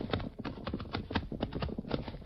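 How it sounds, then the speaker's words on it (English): Horse hooves clip-clop steadily at a walking rhythm on hard ground, a rider leading the horse into a cut in a ridge to hide, close and fairly loud with no talking. "Lead your horse into this cut."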